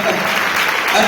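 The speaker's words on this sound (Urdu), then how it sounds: "ہاں زور سے تالیاں بجائیں نا" An audience at a church sermon claps loudly and steadily, a dense, close wash of applause lasting about a second with some voices mixed in.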